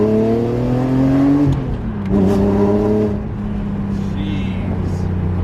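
A manual BMW M5 E60 with a V10 engine revs from inside the cabin, climbing tones that drop with gear shifts, then pull again before settling to a steady drone.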